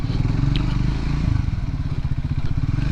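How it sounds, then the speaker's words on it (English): A Triumph Scrambler 400X engine with an electrical fault runs steadily at a fast, high idle that won't drop below 1500 to 2000 RPM, its low throbbing pulse close and loud with faint mechanical clatter on top. "the engine runs in a higher RPM but doesn't idle out in at least 1500 or 2000"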